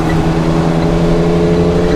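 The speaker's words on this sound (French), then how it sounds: "Tu vois, si t'accélères, il se passe des choses." Engine of an MGC GT car being accelerated, a steady loud droning rumble with strong low harmonics holding throughout, close and continuous without pauses.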